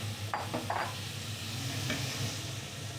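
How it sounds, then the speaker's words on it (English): Onions and beef fry in a pan with a steady, dense sizzle close by, broken by a few faint clicks of a utensil, and nobody speaks. "Throw the onions on."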